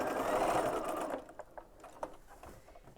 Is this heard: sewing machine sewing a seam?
yes